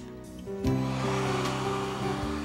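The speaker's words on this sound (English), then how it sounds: "I use a blow dryer because I can't let it air dry" A blow dryer dries glass stain on a lampshade, switching on partway in and holding a loud, steady whirring hum with a droning tone that continues alone to the end.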